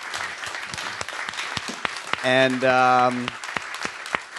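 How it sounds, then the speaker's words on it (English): Scattered applause with sharp individual claps from an audience at a theater talk at the Oslo Freedom Forum, with a voice speaking over it and a brief swell of sustained tones in the middle. "Let's give a huge round of applause"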